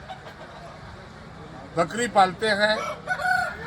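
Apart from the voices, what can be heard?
rooster crowing at a Tusu fair with fighting roosters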